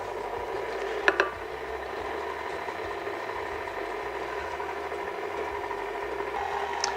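Stand mixer running steadily on low speed while flour is added for chocolate chip cookie dough, a continuous mechanical whir with a couple of brief clacks near the start, fairly quiet and close.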